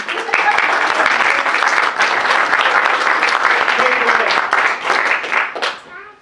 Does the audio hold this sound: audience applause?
yes